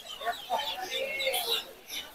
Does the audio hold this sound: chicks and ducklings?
yes